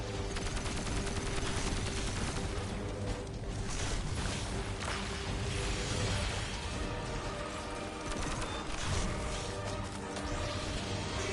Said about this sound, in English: Just open fire on it.